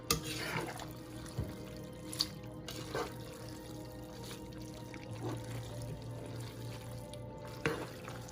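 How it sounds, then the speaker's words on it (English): Water runs from a kitchen tap while chicken and pasta are prepared, a quiet continuous hiss and splash with a few louder clinks and knocks over it, no one speaking. "Water."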